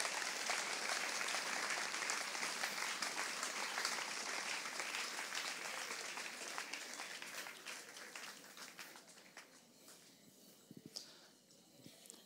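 A church congregation applauds in a dense, sustained wash of clapping that slowly thins and fades, ending in a few scattered claps, heard from a distance.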